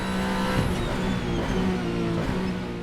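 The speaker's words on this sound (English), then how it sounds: "The sounds of this car are really nice too." An Alpine A424 turbo V6 race car engine in a racing game drones steadily at high revs, with a faint turbo whistle riding over the sustained, tonal roar.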